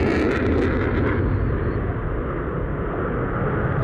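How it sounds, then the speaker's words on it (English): A broad, heavy jet roar from an F-15 Eagle with two Pratt & Whitney F-100 afterburning turbofan engines fills the air at an airshow, loud and sustained with a dense rumbling low end. "The F-15 is powered by two Pratt & Whitney F-100 afterburning turbofan engines."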